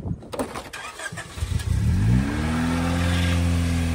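A 1991 Honda CRX SiR with a B16A engine cranks after a few clicks, catches, and settles into a steady, close idle with a rising rev.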